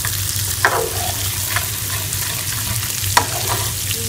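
Mustard greens saag being tempered with desi ghee and garlic, a steady close sizzle of frying with a few sharp clinks of stirring, no talk.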